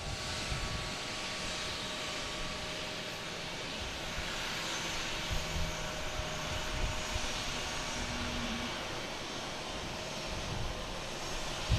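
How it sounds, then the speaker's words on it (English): JetBlue Airbus A220 jet airliner arriving at Boston Logan from JFK, a steady distant roar of jet engines holding at an even level throughout, with faint background hum and no talk. "next coming in is a JetBlue from JFK, an A220"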